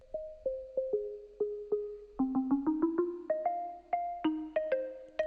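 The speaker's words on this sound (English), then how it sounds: "So what I did was cut out all of the high frequencies and let them slowly come in." A plucked synth build-up starts muffled and dull, its high frequencies cut, then gradually brightens as the treble returns, the repeated notes quickening and rising in pitch, no voices over it.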